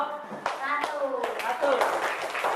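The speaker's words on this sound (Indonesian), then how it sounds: "Tepuk tangan untuk kelompok" A classroom of students claps for a presenting group, with scattered individual hand claps mixed with children's voices chattering and calling out over the applause.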